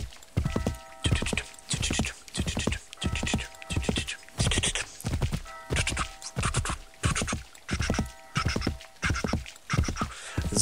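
Rhythmic horse hooves clip-clopping in Assassin's Creed 3, a steady run of repeated regular bursts of trotting steps close by with faint game ambience, no talk over it.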